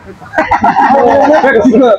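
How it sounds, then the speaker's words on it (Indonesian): A black chicken crows and clucks, close and loud, over a busy background with a voice talking excitedly at the same time. "Ini ayam hitam. Ayam sayur."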